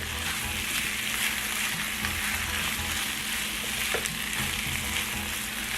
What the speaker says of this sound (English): I put a little bit of olive oil in the pan, and I put all this deliciousness in the pan just to warm it up